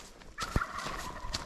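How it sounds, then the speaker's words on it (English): Wild turkeys gobble on a mountain trail near San Diego in a loud, rattling chorus, several birds calling over one another with a sharp burst partway through. "Turkeys!"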